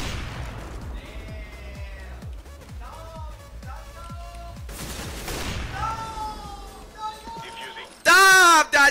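Gunfire in Counter-Strike: Global Offensive, a rapid series of sharp shots under steady excited commentary, followed by brighter game effects and a loud burst at the end.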